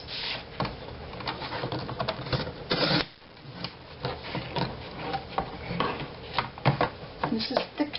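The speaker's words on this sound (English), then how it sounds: "so I just make one cut and then flip over and then cut the other side" A craft blade slices through thick chipboard in a rough run of short scraping cuts and taps, with a brief pause partway through before the cutting resumes at close range.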